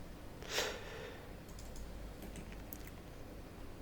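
A few faint keyboard key clicks scattered across an otherwise quiet stretch, with one slightly louder clack near the start.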